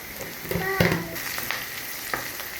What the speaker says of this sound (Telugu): ఇప్పుడు కరివేపాకు వేస్తున్నానండి.